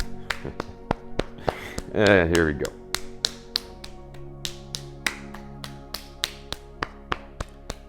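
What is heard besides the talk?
gentle patting on the body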